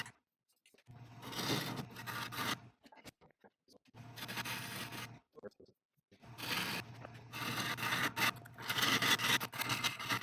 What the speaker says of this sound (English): I'm cutting away a punky section that could slip later in the chuck before forming the tenon.